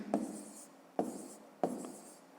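Pen writing an answer by hand on paper during a fifth-grade maths exercise, three short close scratchy strokes, each fading quickly, in a quiet room.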